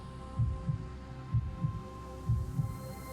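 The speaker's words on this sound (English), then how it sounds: "her heart pounding in her chest" Slow, muffled heartbeat thumps in paired beats, about three double pulses, low and soft over a faint steady hum.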